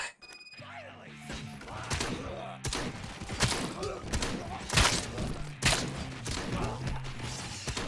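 Rapid gunfire from a shootout in RoboCop: Rogue City, sharp bursts and thuds running through a loud, busy action scene, mixed with game music and effects.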